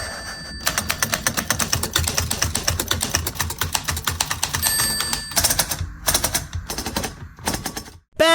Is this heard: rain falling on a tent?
no